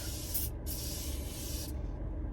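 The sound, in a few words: spraying cooling face setting spray from a can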